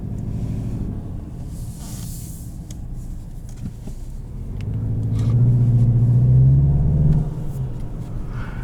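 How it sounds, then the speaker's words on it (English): A 2021 Volkswagen Jetta GLI with a DSG gearbox and turbocharged engine driving, a low engine rumble swelling into a louder pull before easing back, with faint turbo wastegate noise inside the cabin and no talking. "You can actually really hear the wastegate on this thing."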